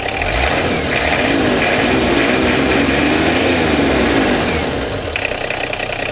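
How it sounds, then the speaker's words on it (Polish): A VW LT28 van's inline-six 2.4-litre diesel engine, running loud and close with a steady rough rumble and throttle pulled repeatedly, no talking over it. "Piękne brzmienie rzędowej szóstki 2-4 diesel"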